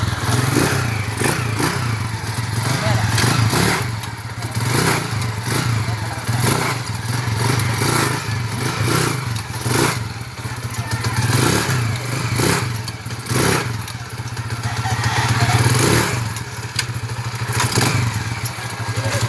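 A Honda TMX motorcycle with newly replaced clutch lining idles steadily up close, with a low continuous rumble, light mechanical clatter and occasional thumps.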